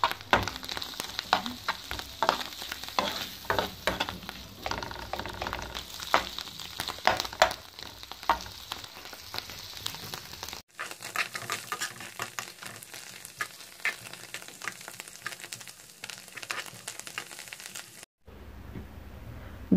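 Mushrooms sautéing gently in a pan over low heat, a soft crackling sizzle with scattered pops that thins out after about ten seconds, with no talk.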